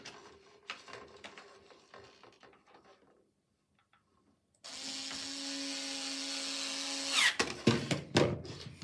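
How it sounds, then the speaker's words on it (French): A magnetic screwdriver turning screws into the Evolux Max during reassembly, with soft clicks and scrapes, then a short near-silent pause before a loud steady whirring buzz with rattling metal strokes at the end. "Il est plus facile de travailler avec des tournevis aimantés dans des parties comme celle-ci."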